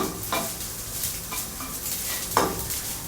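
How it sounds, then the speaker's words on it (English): Yang Chow fried rice stir-fried in a wok over high heat on a small home stove: a steady sizzle with repeated scraping and stirring strokes and occasional metallic clinks, close up with no talking. "stir fry over the high heat for a short while until you can smell the wok aroma or the wok heat"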